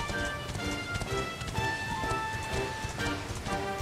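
Horse hooves clip-clop in a steady, quick rhythm as a mount trots in the video game Dragon Quest XI, set over sustained background music.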